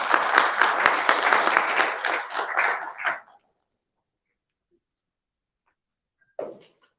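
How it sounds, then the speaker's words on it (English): Conference audience applause, a burst of clapping lasting about three seconds that stops abruptly into silence, followed by a single faint noise near the end. "So please give him a big round of applause."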